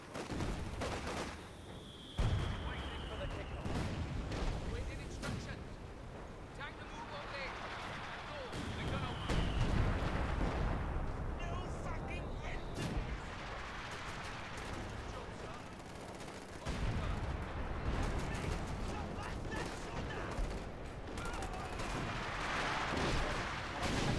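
An artillery barrage in Company of Heroes 2, in a 4v4 match on the Port of Hamburg map, keeps up dense rumbling blasts and crackling gunfire, with in-game voices talking over the battle.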